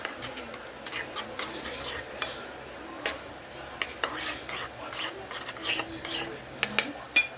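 Chicken sisig and tofu get mixed in a pan, with a metal utensil scraping and clinking against the pan in irregular close strokes over a faint sizzle.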